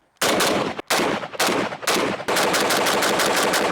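FAL rifle firing loud, close rapid bursts with brief pauses, then a sustained run of shots that merges into a dense, continuous roar.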